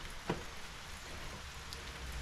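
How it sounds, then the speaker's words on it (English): Steady heavy rain drums on a car roof, a dense, even patter with one brief louder drop near the start, no voices. "So you can probably hear the amount of rain on the car right now"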